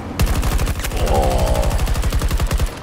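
Rapid automatic gunfire in the video game Battlefield 2042, played on a beta build: a loud, sustained burst of evenly spaced shots running the whole stretch, with a sharp single report early on and no talking.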